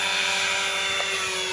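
RC helicopter rotor whining steadily as its pitch rises during an HC3-SX bailout, a loud continuous buzzing drone close by.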